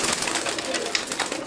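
Madrasi pigeons coo softly and shuffle about close by, short low murmuring calls mixed with light rustling of feathers and movement in a brief, busy burst.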